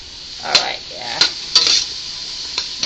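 Chopped onion sizzles in a pot over medium-high heat while a utensil scrapes and stirs in several distinct strokes, close and clear.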